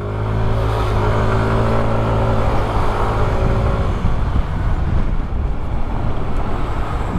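A 2021 Yamaha NMAX 125 scooter ridden through heavy traffic on a congested highway, its loud, steady engine drone and wind rush carrying throughout, with road noise all around.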